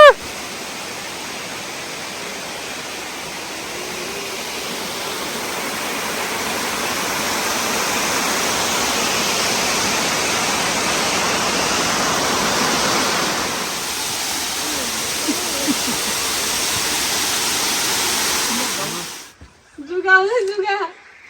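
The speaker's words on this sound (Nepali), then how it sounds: "बवाल झर्ना यार" A waterfall near Coffs Harbour gives off a loud, steady roar of falling water for about twenty seconds. It then cuts off abruptly, and brief voices follow.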